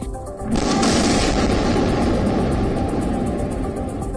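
Explosions in Gaza: a sudden heavy boom after half a second, followed by a sustained loud rumbling roar that carries on to the end.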